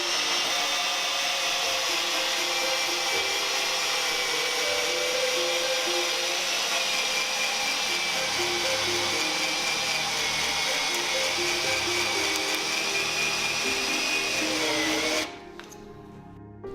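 A Makita DDF 453 cordless drill driver runs at a steady high whine for about fifteen seconds, close and loud, then stops abruptly and leaves near silence.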